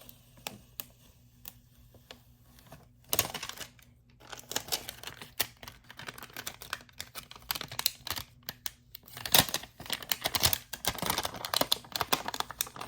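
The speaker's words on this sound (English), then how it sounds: "I'm slowly removing the transfer tape" Transfer tape is peeled slowly off a cheap glass mug being etched, giving quiet crackling and sticky ticking that thickens into denser bursts of rustling and snaps partway through, close by with no talk.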